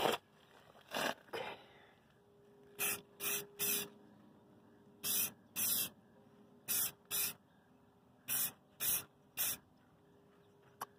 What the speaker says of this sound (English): Okay, let's start to spray.